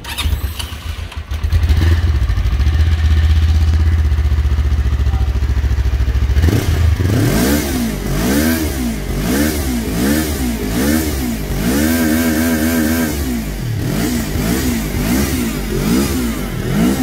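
Taro GP-400R sport motorcycle engine idling loud and close, then revved repeatedly in rising and falling sweeps.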